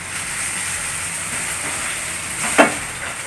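Onion and green chili sautéing in a hot pan for veg samosa, a steady soft sizzle throughout with one brief louder stir or clatter near the end.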